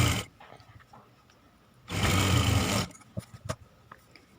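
A sewing machine stitching lining onto a blouse sleeve runs in one close, brief burst of about a second, with quieter handling clicks and rustles before and after.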